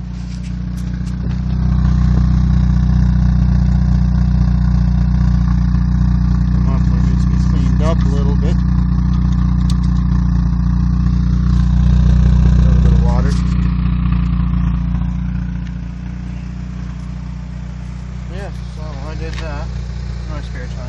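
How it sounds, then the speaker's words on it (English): A Chevrolet Cavalier's engine idles steadily with a strong, low rumble that swells briefly and then settles, while someone talks nearby. "I'm gonna let you listen to it idle."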